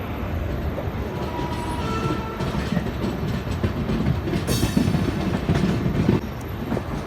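Dehradun Tanakpur Weekly Express pulling out of Dehradun terminal, heard from on board as a steady low rumble of rolling wagons with faint clickety-clack from the rails and a brief high squeal midway, with no talking.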